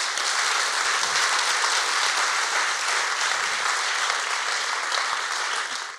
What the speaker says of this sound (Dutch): Geef haar een geweldig applaus.